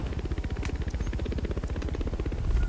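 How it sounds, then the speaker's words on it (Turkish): Helicopter descending in the racing video game The Crew 2, a steady, rapid rotor chop pulsing evenly throughout, moderately loud with a slight swell near the end. "Frene basınca helikopter iniyor."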